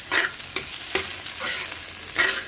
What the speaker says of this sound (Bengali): ভালো মতো নেড়ে এবার দিয়ে দেব বাঁধাকপি কুচি।